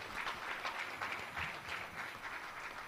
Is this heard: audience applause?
yes